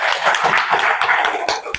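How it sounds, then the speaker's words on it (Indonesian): Classroom applause for a pupil named Sahi during a primary-school lesson: a short burst of dense, steady clapping from a group of children, close and fairly loud, with no talk over it. "Tepuk tangan dulu untuk Sahi"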